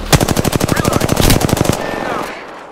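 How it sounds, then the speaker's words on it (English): A fast, steady burst of automatic gunfire in Apex Legends, close and loud, roughly twenty evenly spaced shots over about two seconds before trailing off into a ringing tail. "Shots fired, and they're hitting me."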